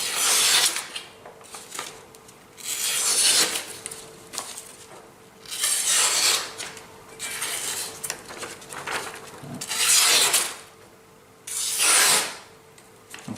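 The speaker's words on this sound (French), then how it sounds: "je vais faire un petit passage au cuir" A knife blade, freshly sharpened on a Chroma P35 Japanese water stone of 1000/3500 grit, is stropped on leather in about six separate hissing swipes, each a couple of seconds apart and heard up close without speech.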